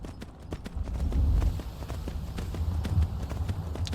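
Horse galloping in the Skyrim video game, a steady, rapid clip-clop of hooves over a low rumbling background, fairly close and continuous.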